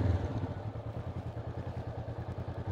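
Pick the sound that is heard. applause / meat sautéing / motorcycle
motorcycle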